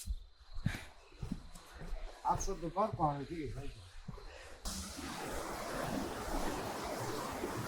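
People talk close by at first, then a clear mountain river near Bir Billing in Himachal Pradesh rushes in as a steady, broad wash of flowing water that fills the rest of the moment.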